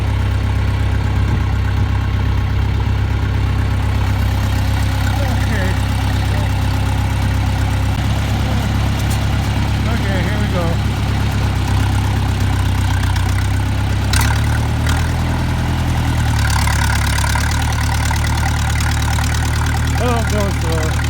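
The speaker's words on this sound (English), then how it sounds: "We'll use a tractor today." A tractor engine idles steadily with a deep, constant rumble, loud and close throughout, on a farm in frozen winter conditions, with a few brief clanks and knocks over the drone.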